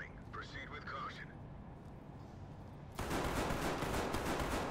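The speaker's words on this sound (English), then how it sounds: "Oh, that's a lot of shots." Gunfire in the tactical shooter Ready or Not erupts as a loud, dense, sustained burst of rapid shots after a stretch of voices and quieter background game noise.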